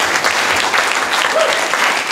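A seminar audience gives a loud, sustained round of applause, with close, continuous clapping throughout.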